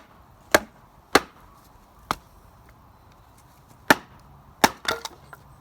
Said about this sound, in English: try smashing it with a homemade hammer